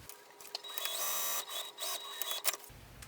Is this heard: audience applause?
no